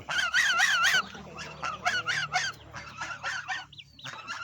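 Geese honk loudly at close range, a burst of harsh calls followed by several shorter honks, with farmyard noise faintly in the background.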